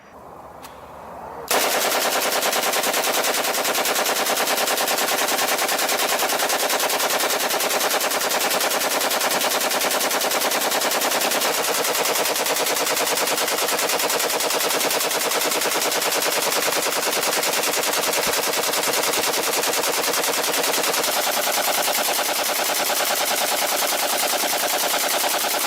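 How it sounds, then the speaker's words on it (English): Sustained full-auto fire from a Romanian AK rifle emptying a 100-round Chinese drum magazine, one loud continuous burst lasting over twenty seconds after a short quiet start, with no talking. "we're going to be doing a 100-round mag dump with a Chinese AK drum and a full auto Romanian AK"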